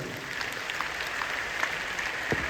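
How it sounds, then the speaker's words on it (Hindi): Applause from a large crowd at a business seminar in Patna, a thin, scattered clapping with a few sharper claps poking out, fairly faint and steady throughout. "देखिए सभी लोग का एक जबरदस्त ताली होनी चाहिए।"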